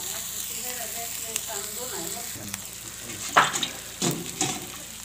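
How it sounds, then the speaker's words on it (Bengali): Onion paste, garlic paste, cumin, coriander, chili and turmeric frying in oil, a steady moderate sizzle with stirring scrapes and clinks growing louder toward the end, with talking partly over it. "এখানে পেঁয়াজ বাটা, রসুন বাটা, জিরা, ধনিয়া, তারপরে মরিচ, হলুদ কষিয়ে নিচ্ছি"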